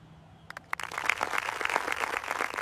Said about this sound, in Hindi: भीड़ में तालियां।